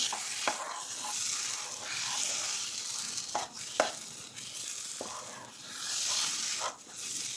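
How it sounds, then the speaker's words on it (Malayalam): Moong dal halwa with ghee being stirred in a hot pan, a soft continuous sizzle with periodic scraping strokes of the spoon across the pan bottom. "നെയ്യ് ഒഴിച്ച് കൊടുത്തൊന്ന് ഇളക്കി കൊടുക്കാം"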